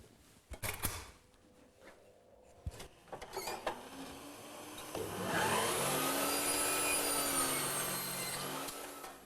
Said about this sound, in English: I'm going to make the first cut now